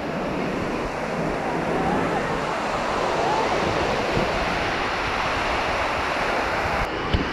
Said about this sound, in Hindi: गाइस नज़ारा देखो बीच का